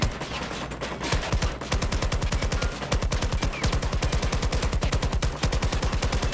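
Battlefield 2042 gunfire crackles as long, rapid automatic bursts of sharp, evenly spaced shots, loud and close, with brief gaps between strings and no talk.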